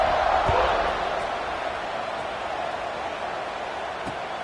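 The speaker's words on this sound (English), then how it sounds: "this crowd is buzzing after that last score" Stadium crowd in College Football 26 buzzing with a steady, distant roar after a score, continuous and broad, with a couple of faint thuds.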